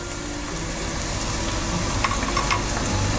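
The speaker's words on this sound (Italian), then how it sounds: "Facciamo soffriggere la nostra cipollina" Chopped onion sizzles steadily in a pan while it is sautéed for a Sicilian braciolone, a continuous close crackle with a few brighter pops and no talking.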